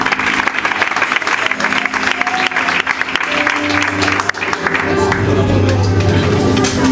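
A church congregation applauds during a Good Friday sermon, loud sustained clapping filling the room for several seconds, with a voice speaking over it toward the end.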